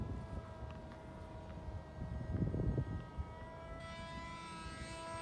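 RC model plane engine droning steadily at a distance as the aircraft flies, a faint continuous hum that swells a little midway, with no talk.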